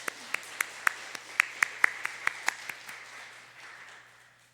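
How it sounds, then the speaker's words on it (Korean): A church congregation claps to welcome a missionary, a rhythmic beat of a dozen or so sharp claps over a softer spread of applause that fades away near the end. "우리 윤대근 선교사님 모실 때에 우리 박수로 환영하면서 모시겠습니다"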